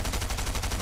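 Gunfire in Fortnite rattles out as a quick burst of rapid, evenly spaced shots, loud and up front.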